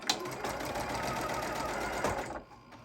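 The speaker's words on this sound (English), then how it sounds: "we're just going to sew across here 1/4 inch seam allowance." A sewing machine stitches a quarter-inch seam across a bag, whirring steadily and close up for about two seconds before it stops and falls quiet.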